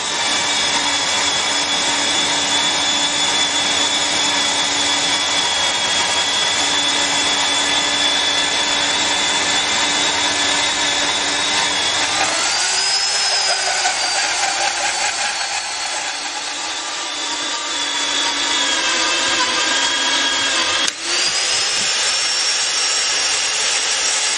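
A loud, steady mechanical whine of an ERD 35-2 rail drilling machine runs throughout, its pitch shifting partway through as the cutter bites into the steel rail, with no voices.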